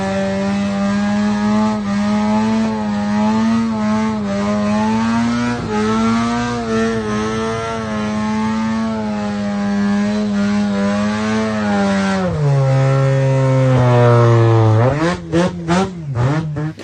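A Nissan RB25DET-powered car holds a long, loud, steady high rev on a burnout pad, then the engine note drops lower before rapid revving blips, close to the engine.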